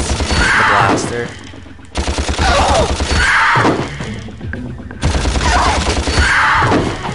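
Repeated blaster bursts from Ratchet & Clank, fired at distant enemies: three loud, dense volleys of rapid energy shots in quick succession, each dropping off briefly before the next starts, close and punchy.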